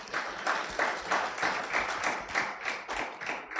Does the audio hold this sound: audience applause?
yes